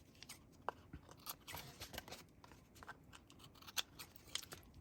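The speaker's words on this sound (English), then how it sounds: "There, now I can trim that off." Scissors trim a piece of paper card during card making, giving a run of quiet, close snips and crisp paper cuts with no talking.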